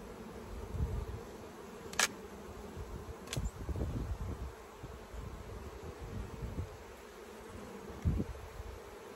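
Honey bees pour out of an opened, disturbed hive during a honey harvest: a dense, continuous droning buzz close by, steady throughout with a few faint clicks and knocks.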